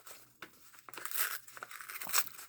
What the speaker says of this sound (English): tearing on the edges, so we're not using scissors